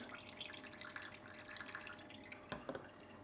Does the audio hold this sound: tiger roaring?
no